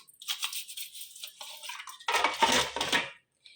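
Pots and dishes clatter and scrape close by as they are scrubbed, in irregular bursts with a louder rattling stretch near the end.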